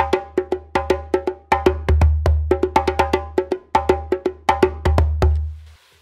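A djembe recorded with top and bottom microphones combined, played in a lively repeating pattern, full booming bass tones mixed with sharp slaps, close and loud with no voices.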